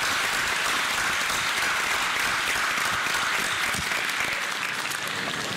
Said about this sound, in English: let's give a round of applause to those who are part of all of those villages